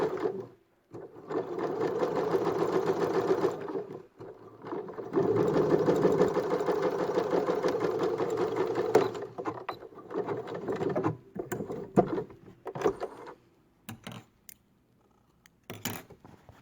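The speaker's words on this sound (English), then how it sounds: "And as I'm sewing it, I'm stretching it out just because I haven't pressed it." A sewing machine stitches a seam on a cloth face mask in bursts: two long runs of steady mechanical whirring, then shorter stop-start stitches and clicks with pauses between.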